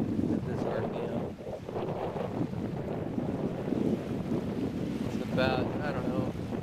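Wind rushes past an outdoor vertical axis wind turbine fitted with airfoil rotor vanes in a light 8 to 10 mph breeze, a continuous broadband roar and buffeting that stays fairly close, with a brief whining tone near the end.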